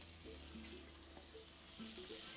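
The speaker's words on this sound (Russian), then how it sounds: "Обжарить рыбу до корочки с одной стороны, перевернуть на другую." Quiet, steady sizzling of fish fillet cubes frying in olive oil in a pan, with faint light clinks and soft background hum, no voices.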